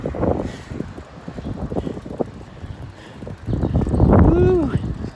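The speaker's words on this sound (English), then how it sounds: "pretty windy." Gusty wind on Kihei Road in Maui, Hawaii, buffets the microphone in low rumbling bursts while riding a bike, with a brief voice cutting through near the end.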